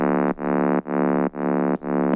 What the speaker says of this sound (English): Really deep fucking gritty bass.